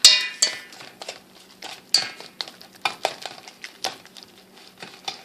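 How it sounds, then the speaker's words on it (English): A whisk clinks and scrapes briskly in a bowl of batter with a teaspoon of vanilla, loud irregular metallic taps and swishes close up for several seconds. "I'm going to give it a good whisk."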